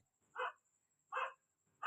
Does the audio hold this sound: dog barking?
yes